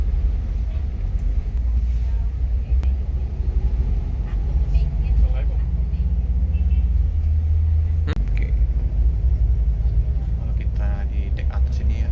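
Mercedes-Benz 626 Euro 4 double-decker bus engine rumbling steadily with deep low-end drone throughout, continuous and fairly loud, with scattered cabin noises over it.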